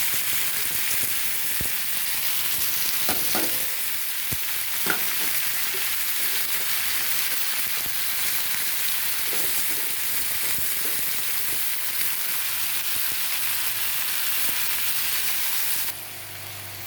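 Onions and spinach fry in a pan with a loud, continuous hiss of sizzling, with a few faint stirring clicks early on before the sizzle drops off near the end.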